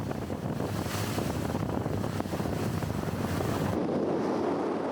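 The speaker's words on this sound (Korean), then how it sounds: "보트는 시원하게 바다를 가르고 있다" Boat speeding across Atlantic Ocean swells off the Portuguese coast, with a loud, continuous rush of wind and churning surf that stays steady and close throughout.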